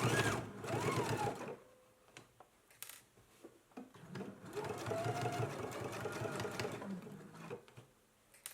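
Sewing machine basting a shirt collar closed, with two close bursts of rapid rhythmic stitching separated by a pause with small handling clicks, fairly quiet and without talk.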